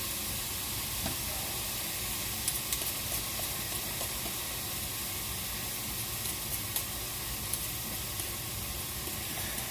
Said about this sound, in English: Get the fat of the bacon moved around. Get it coated in the onions.